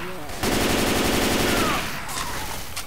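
Automatic gunfire in Left 4 Dead 2, a loud rapid burst of shots lasting over a second, followed by scattered sharper shots and game noise.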